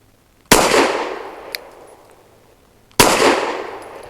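Two sharp, loud shots from a Saricam S19 9mm pistol-caliber carbine with a 16-inch barrel, spaced about two and a half seconds apart, each a crisp crack trailing into an echoing decay outdoors.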